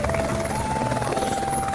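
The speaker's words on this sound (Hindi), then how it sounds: "फाटा से पिनेकल हेलीकॉप्टर द्वारा श्री केदारनाथ जी बेस कैंप पहुंचे।" A helicopter flies on the route from Phata to the Kedarnath base camp in the Himalayas, a steady loud rotor thrum and engine whine that stays constant and close throughout.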